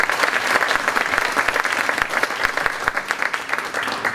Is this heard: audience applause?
yes